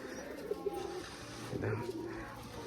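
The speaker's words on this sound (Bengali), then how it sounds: "আগে ওই খাঁচার পায়রাগুলো বেরাবে" Pigeons coo softly from their cage as they come out, a few low, rolling coos at close range over quiet background noise.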